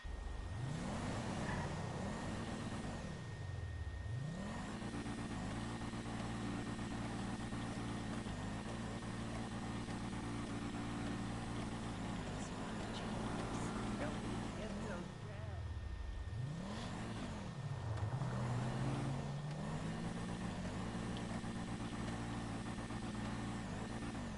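A car engine in GTA V drones steadily, revving up and dropping back through several gear shifts, its pitch sweeping up and down in loud, continuous cycles.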